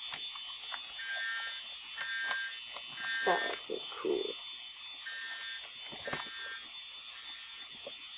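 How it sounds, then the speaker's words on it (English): A school fire alarm sounds during a test, a steady electronic tone with intermittent higher beeps that repeats throughout, while people talk nearby over it. "there has been a pulled fire alarm"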